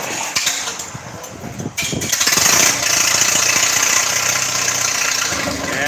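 A 1950s Oliver Super farm tractor engine at an Oliver tractor show starts up rough, then settles into a loud, steady, close running idle, with no talking.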